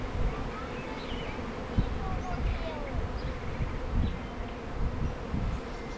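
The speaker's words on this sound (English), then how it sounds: "You're hearing all the bees" A honeybee swarm that has just left its hive, a dense continuous buzzing of many bees close around, with individual bees whining past and faint voices now and then underneath.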